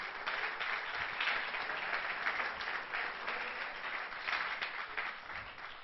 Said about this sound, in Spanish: Denle un aplauso, ¿cómo no?